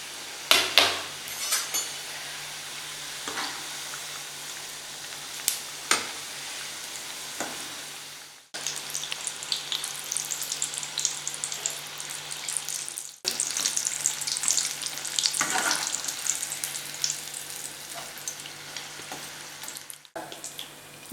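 Onion samosas deep-frying in oil over a low flame hiss and sizzle steadily, with a dense, continuous bubbling crackle. Brief clatters and short breaks come as pieces are added or turned, all close up and moderately loud.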